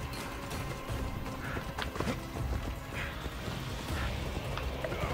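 Hooves clip-clop in a quick, rhythmic gallop in Assassin's Creed Odyssey, fairly quiet, over a soft patter of rain in the background.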